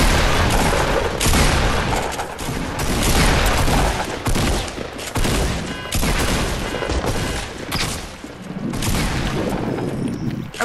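Rapid bursts of gunfire and booming blasts crackle through a Fortnite squad fight, dense and loud, repeating in close volleys with brief gaps, with no talk.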